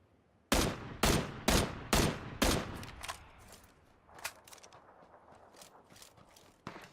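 Gunfire in PUBG: five loud, sharp shots in a steady rhythm, then a pause and a few scattered, fainter shots further off.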